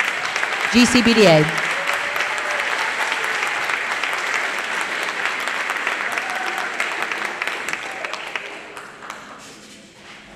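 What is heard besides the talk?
audience applause for band students at a school concert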